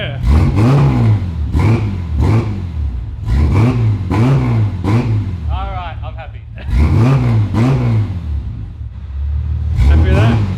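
Close, loud revving from someone's new XG streeter motorcycle comes in repeated rising bursts, pausing briefly before more throttle blips, while people talk over the engine.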